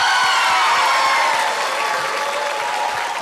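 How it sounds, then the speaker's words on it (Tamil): An audience at a televised dance competition breaks into loud, continuous clapping that fades slightly toward the end, with faint cheering mixed in. "கைத்தட்டலன்னு கொஞ்சம் வேகமா கொடுங்க."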